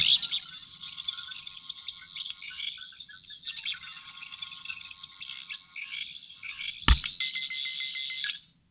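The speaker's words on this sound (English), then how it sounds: "that's kind of more like a scanning sound" A Doctor Who 15th Doctor sonic screwdriver toy in its third mode emits a steady, high electronic scanning warble that runs for several seconds, with a sharp click or knock near the end before the tone fades out.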